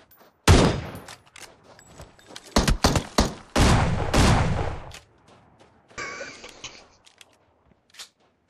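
Winchester rifle shots in a video game, several sharp loud reports in a close cluster followed by a quieter burst and one final faint shot, separated by brief silences.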